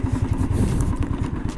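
A motorcycle rumbles close by as it is ridden up and brought to a stop for parking near a coastal spot, its low engine pulsing alongside clattering and thudding knocks, with no talk over it.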